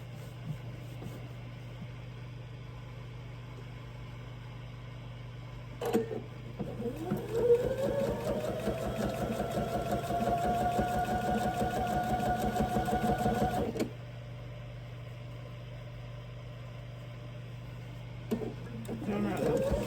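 A home sewing machine runs steadily for several seconds, stitching a Bargello Christmas tree skirt, after starting up with a rising whir. It stops abruptly, and a steady low electrical hum continues underneath throughout.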